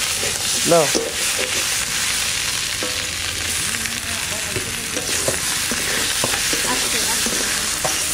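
Potatoes and tomatoes fry in a pan of oil for a katla fish curry, producing a continuous loud hiss and sizzle with occasional stirring scrapes and a brief voice-like squeal early on.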